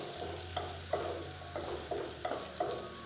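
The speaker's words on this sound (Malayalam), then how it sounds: "ഇത് രണ്ടും കൂടി ചേർത്ത് കൊടുത്തതിന് ശേഷം വീണ്ടും നല്ല രീതിയിലൊന്ന് വഴറ്റി കൊടുക്കാം." Onion and green chillies are sautéed in a pan for restaurant-style chilli chicken, with a soft, steady sizzle and a spatula scraping in rhythmic strokes about every half second, alongside a low background hum.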